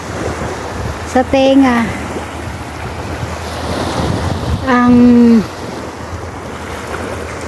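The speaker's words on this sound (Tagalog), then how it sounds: "lagaslas ng tubig dagat" Sea waves washing onto Umm Al Quwain Beach, a steady surf roar blended with wind buffeting the microphone, with someone speaking briefly over it.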